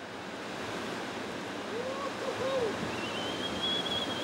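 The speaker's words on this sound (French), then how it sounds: "dans les vagues bretonnes parfois fortement inhospitalières de la côte sauvage de la presqu'île de Quiberon" Ocean waves break on the wild coast of the Quiberon peninsula in Brittany, a constant broad wash of surf with a faint hiss of wind, at moderate level.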